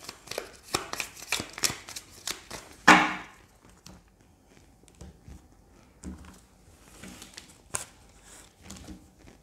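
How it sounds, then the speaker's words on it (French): A deck of oracle cards is shuffled by hand, with quick, soft papery riffles and taps in irregular bursts close by, followed by quieter scattered card handling. "je vais prendre 3 cartes de l'oracle des rêves enchantés"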